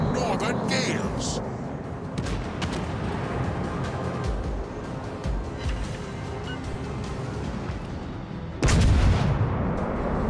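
Warship guns firing in World of Warships: Legends, a continuous rumbling barrage of booms with a heavy blast near the end, under a voice giving commands.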